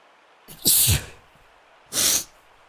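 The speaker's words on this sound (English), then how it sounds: "I'm gonna sneeze." A single person sneezes close up: a sharp inhaled catch followed by a loud explosive burst, then a second breathy burst about a second later, in an otherwise quiet room.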